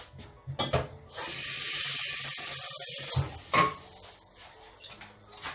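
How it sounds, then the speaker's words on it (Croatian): Water is poured into a pot of cauliflower and turmeric soup, a two-second rushing splash set between brief clinks and handling sounds of the kitchen pot. "Sipat ćemo još malo vode."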